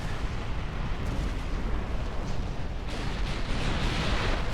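Naval gunfire from ships in Ultimate Admiral Dreadnoughts, a dense continuous roar of overlapping cannon blasts and rumble, fairly distant and unbroken.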